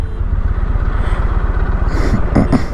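A Yamaha MT-01 1700cc motorcycle downshifting without a slipper clutch so the rear wheel hops, heard as a loud, close, steady low engine rumble with rattling clatter and a few sharper mechanical bursts toward the end.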